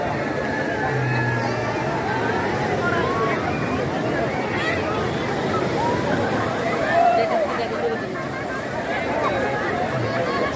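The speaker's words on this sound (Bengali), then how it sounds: "সমুদ্রের ঢেউ একদম তীরে চলে এসেছে দেখেন ঢেউ ভারী খাচ্ছে ঢেউ ভারী খেয়ে খেয়ে একদম তীরে আসে আবার চলে যায়" Sea waves break and wash up on the beach at Cox's Bazar, a continuous loud rushing surf close by with a crowd of voices chattering underneath.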